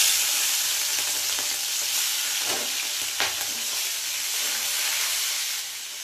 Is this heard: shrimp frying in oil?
yes